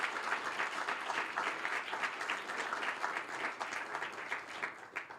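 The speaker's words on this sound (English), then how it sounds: "A big round of applause for all our 14 finalists." A room full of people clapping for fourteen finalists at a regional idea pitch competition, sustained, even applause at moderate distance lasting several seconds without talk.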